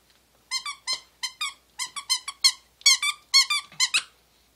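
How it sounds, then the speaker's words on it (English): A dapple dachshund chomps on a squeaky toy, producing a quick run of about fourteen sharp, high-pitched squeaks in uneven bursts, close by and with no voices. "Squeak it one more time."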